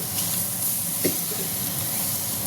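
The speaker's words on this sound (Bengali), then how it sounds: "এবার আমি এই যে জলটা দেব।" Water poured into a hot pan of eggplant, potato and egg curry gives a steady steaming hiss, with a short sizzling burst about a second in. No one speaks.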